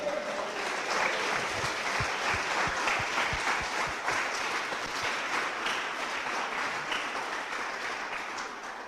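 A church congregation applauds as an offering to the Lord, a dense, steady wash of many hands clapping that carries on alone for nearly nine seconds and fades slightly toward the end.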